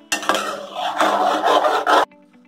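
Thick tomato aamsotto chutney stirred in a pot, a close, loud rasping scrape in a few strokes lasting about two seconds, then stopping abruptly.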